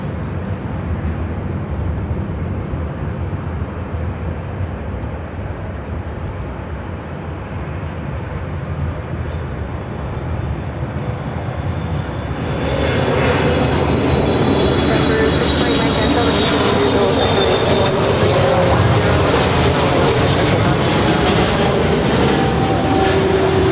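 A jet airliner at LAX roars steadily, growing much louder partway through as it comes in to land, with radio voices heard under the engine noise.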